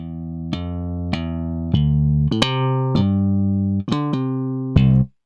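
A bass guitar run through a Waves bass plugin with compression on plays a phrase of around nine evenly levelled plucked notes, loud and sustained with sharp attacks, then cuts off; no voices.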